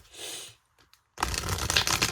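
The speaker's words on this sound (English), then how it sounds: "I am going to be shuffling, so bear with me" An oracle card deck being shuffled by hand: a short riffle, a pause with a few light taps, then a louder, denser burst of cards flicking and slapping together close up.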